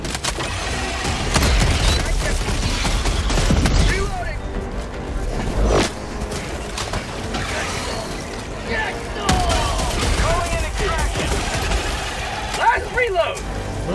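Gunfire and explosive booms from the video game Helldivers 2, a dense, loud barrage of shots and blasts running through the whole stretch with voices talking over it.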